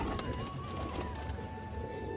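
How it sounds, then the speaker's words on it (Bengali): Black jack nun pigeons cooing in a loft: a soft, steady murmur of coos runs through the whole stretch under a thin, sustained whistle-like tone, with no talking. "দেখুন কালো জ্যাক নটটা কি ডাকাডাকি করছে এখানে"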